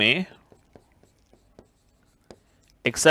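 A teacher writes on a board in a classroom lesson on MS Excel, producing soft, sparse taps and strokes between short bursts of talk at the start and end.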